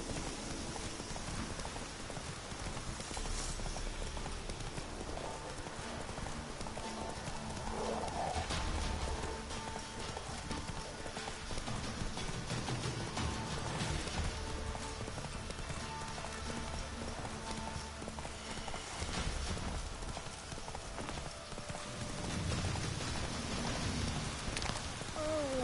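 A horse named Roach in the video game The Witcher 3 walks with a steady hoof clip-clop over a constant rain-like wash of ambient noise, moderately loud and without talking.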